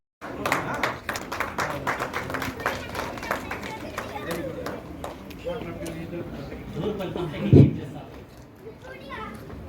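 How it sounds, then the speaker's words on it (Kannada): The audience at a student talent award ceremony in KGF, hosted by the Kannada Sangha and Kannada Sahitya Parishat, claps in a burst of sharp, scattered hand claps that thins out, with voices and children's chatter throughout. "ದಯವಿಟ್ಟು ಎಲ್ಲರೂ ಜೋರು ಚಪ್ಪಾಳೆಯೊಂದಿಗೆ"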